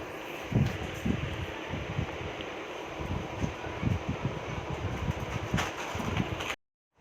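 A sewing machine stitches a kuchulla topi, a tasselled cap, giving a steady mechanical whirr with rapid rhythmic thumps of the needle. It runs continuously, close and moderately loud, then stops abruptly just before the end.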